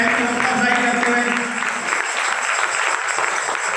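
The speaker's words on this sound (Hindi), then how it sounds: "आए बहन के लिए जोरदार तालियां बजाते हैं" An audience applauds someone speaker at a one-day church seminar, a loud continuous patter of clapping with a faint voice or tone showing through early on.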